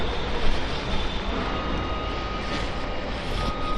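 A train at a railway station in Portugal gives off a steady, loud, broadband rumble with a constant hiss throughout, and no voices are heard.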